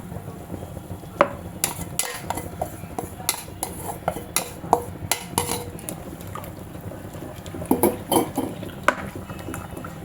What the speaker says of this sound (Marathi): चमच्याने एकीकडे मिक्स करत जायचं आहे